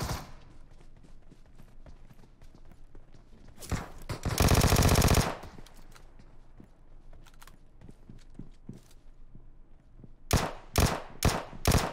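Vector submachine gun fire in a video game, rapid bursts of shots with a loud sustained burst near the middle and several sharp closely spaced bursts at the end, with soft clicks and footsteps between them.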